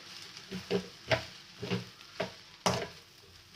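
Mustard seeds, chana dal and urad dal fry in oil for a tempering, with a soft crackle beneath regular spoon-stirring scrapes that come about every half second, close and moderately loud, with no talking.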